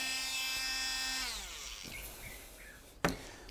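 A drill whirs steadily, then winds down as it bores a pilot hole in 3mm polycarbonate for a handmade garfish swimbait lure, with a sharp clack near the end.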